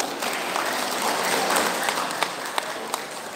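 Dense, steady applause from a large audience at a Batak Siahaan clan New Year celebration in Bandung, with a few sharper individual claps standing out near the end.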